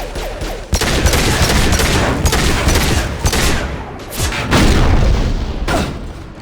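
Dense gunfire from a firefight in the video game Mass Effect 2, loud and almost unbroken, with bursts of rapid shots and heavy booming impacts piling over each other.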